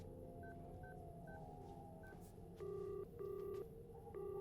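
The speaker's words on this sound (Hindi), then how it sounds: "बढ़िया, फोन लगाओ, मैं उनसे बात करना चाहता हूँ।" Telephone keypad dialing tones play over a speakerphone: a few soft, quick beeps, followed by louder, evenly spaced ringback tones, all heard with no talking.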